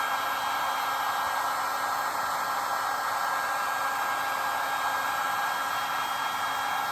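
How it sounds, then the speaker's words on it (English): A heat gun blows steadily while warming a pipe, a loud constant airy roar with a faint whine, unbroken for the whole stretch and with no voices. "It's not actually a hairdryer, it is a proper heat gun."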